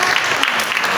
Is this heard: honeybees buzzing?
no